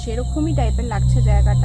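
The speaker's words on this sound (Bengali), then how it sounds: "প্রচণ্ড নিস্তব্ধ, ঝিঝি পোকার ডাক।" Crickets chirp in a continuous, shrill drone at night in a very quiet spot, steady and fairly close, while a person talks over them.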